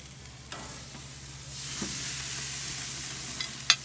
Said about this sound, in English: So now he's going to sear the meat.